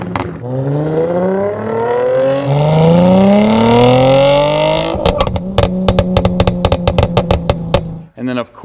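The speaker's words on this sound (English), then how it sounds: "This exhaust setup sounds amazing." A Mercedes C300 with a six-speed manual and aftermarket exhaust revs up in long rising sweeps, then settles into a burst of sharp pops and crackles on the overrun, loud and close with nobody talking.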